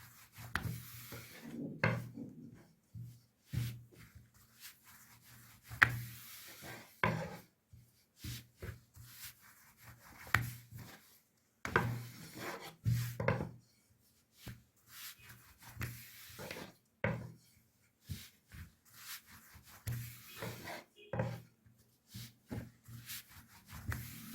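Dough being rolled out with a rolling pin for a spinach pastry tray, heard as close, repeated wooden rubbing and rasping strokes in irregular bursts with brief pauses, no talking over it.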